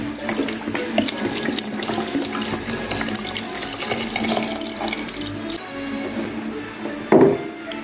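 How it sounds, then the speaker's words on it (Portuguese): One liter of milk is poured into a pot of canjica corn in a home kitchen, a close, steady liquid splashing and gurgling for several seconds that ends with a brief knock. "Já vou colocar então, ó, 1 litro de leite"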